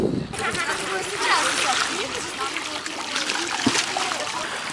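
Feet splashing and sloshing through shallow Red Sea water as a person wades in, a steady close wash of water with a voice talking over it.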